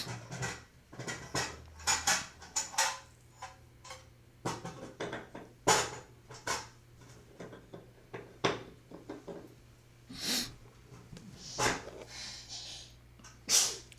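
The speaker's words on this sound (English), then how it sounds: "I sneezed. You sneezed" Two people sneezing in turn, short sharp bursts scattered across the stretch amid quiet breathing, sniffs and light handling noises, close and moderately loud.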